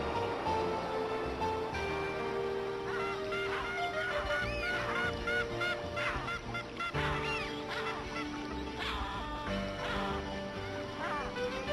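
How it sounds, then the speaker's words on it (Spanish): Elegant terns call at Paracas, Peru, a busy overlapping chorus of harsh, repeated cries from a seabird colony, continuous and moderately distant. "El gaviotín elegante es uno de ellos"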